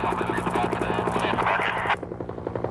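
A firefighting helicopter carrying a water bucket over a fire: its rotor thumps rapidly and evenly with a loud whine overhead, close and powerful, then the higher whine drops away near the end.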